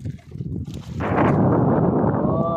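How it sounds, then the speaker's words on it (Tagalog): Strong wind gusting over open sea on a fishing boat, a loud steady broadband rush that builds sharply after a quieter, rumbling start and then holds near the microphone. "Lakas ng hangin mga kaibigan."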